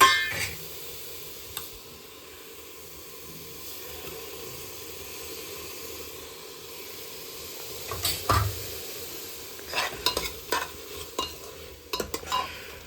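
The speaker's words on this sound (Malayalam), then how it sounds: "ഗരം മസാല ഇട്ട് ഇനി നമുക്ക് കുറച്ച് തൈര് ഒഴിച്ചു കൊടുക്കാം" Yogurt poured over garam masala in a pressure cooker for a vegetable biryani, producing a low steady sizzle and hiss, with scattered spoon scrapes and clinks growing busier toward the end.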